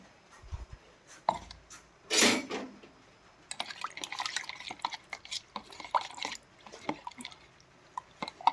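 Coriander, ginger and chilli paste being mixed with water for panipuri, with wet stirring, clinks and drips against a bowl and a splashy burst near the start.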